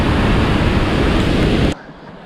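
Lewis River Falls, a waterfall on a forest road in Washington, roars as a loud, dense wash of rushing water that cuts off abruptly near the end into quiet background.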